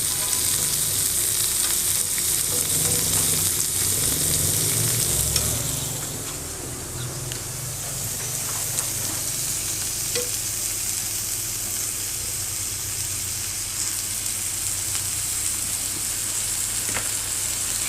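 Sauce for toast cooking in a pan, a continuous close sizzle and hiss with faint stirring clicks, softening slightly partway through, no voices.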